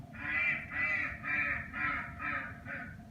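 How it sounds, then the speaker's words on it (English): A duck recording plays through a Google Assistant speaker as six evenly spaced, nasal quacks in a steady rhythm, moderately quiet, with no talking. "This is a duck."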